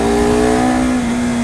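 Honda CBR250RR motorcycle engine revving hard during a test ride, a loud, continuous high-pitched whine holding steady through a short burst with no talk.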